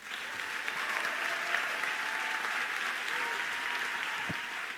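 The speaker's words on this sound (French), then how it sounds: "Vous pouvez applaudir virtuellement" Audience applauding at the close of a speech in a student eloquence competition final, a steady, dense clapping that holds evenly throughout, moderately loud with no voices over it.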